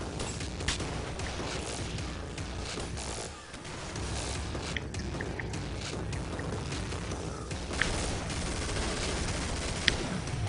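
Hipfire gunshots in Killing Floor, rapid bursts of gunfire over a continuous noisy game soundscape, with sharp louder reports near the end.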